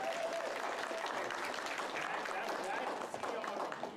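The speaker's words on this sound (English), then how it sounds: "Give yourselves a round of applause" A convention panel audience at Kawacon 2026 claps in a continuous, even wash of applause at a fair distance, steady throughout with a brief dip near the end.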